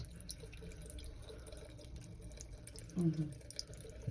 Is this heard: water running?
yes